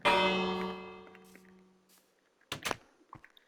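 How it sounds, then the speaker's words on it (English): A large bell in Minecraft struck once with a loud clang that rings out and slowly fades, followed by a few scattered knocks and thumps. "Let's ring the bell for the dead."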